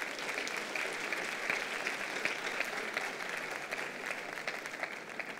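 A church congregation applauds during a Christmas sermon, a sustained crowd of clapping hands that stays even and fairly loud from start to finish, with faint murmurs mixed into the noise.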